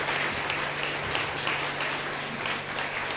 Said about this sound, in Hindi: आइए हम जोरदार ताली बजाकर आदरणीय परमेश्वर पिता